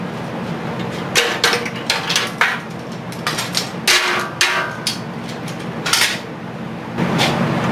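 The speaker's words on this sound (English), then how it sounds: "And now we can pull our clamps off." Metal welding clamps are pulled off steel pieces one after another, giving a series of sharp clanks and knocks at irregular intervals against a steady low background hum, with no talking.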